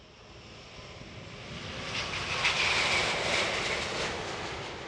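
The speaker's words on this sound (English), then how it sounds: "Starting the takeoff run from Airbus, the 380 from our right to the left." An Airbus A380 airliner starts its takeoff run at the Farnborough airshow, a broad jet engine roar that builds steadily from moderate to loud and holds without talk.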